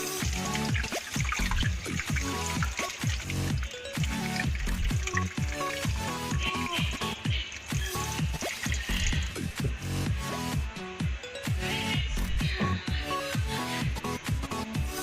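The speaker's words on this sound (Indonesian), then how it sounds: "Lalu kita masukkan air secukupnya." Water poured into a pot for boiling sweet corn, a steady continuous splashing and trickling stream that runs loud and close throughout with no talk.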